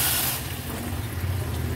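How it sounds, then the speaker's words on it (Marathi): Hot water hits a sizzling potato curry in masala, a loud hissing burst of steam at first that settles into a rough, steady bubbling sizzle, close up and without talk. "भाजी मिक्स करून झालं की मी ह्याच्यात गरम पाणी ऍड करणार आहे।"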